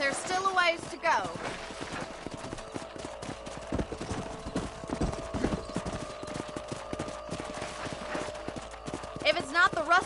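Horse hooves clip-clop at a steady trot in the Western video game Red Dead Redemption, a continuous rhythmic patter running under game sounds and spoken dialogue.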